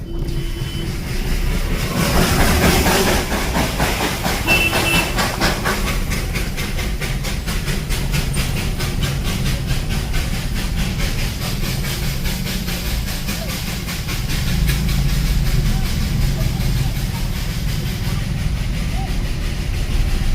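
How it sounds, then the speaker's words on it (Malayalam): A train runs along a road beside traffic, giving a loud, close, continuous rumble with a steady hissing, clattering wash that swells and eases slightly as it passes. "റോഡിലൂടെ ട്രെയിൻ പോകുന്ന ഈ കാഴ്ച ഒരു കാഴ്ച തന്നെ"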